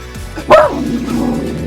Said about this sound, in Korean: 강아지도 한번 짖어주고